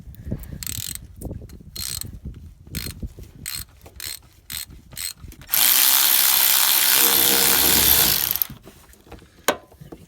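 A hand ratchet works loose 13mm nuts on a Renault Master 2.3 dCi gearbox in a cramped space, short bursts of clicking at close range, then a sustained louder whirring run before clicks resume.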